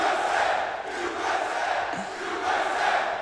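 A large esports arena crowd at The International in Seattle cheers and roars for the team Complexity, a sustained loud mass of voices that dips briefly and swells again.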